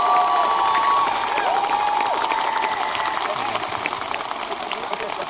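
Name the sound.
crowd applause and cheering at rally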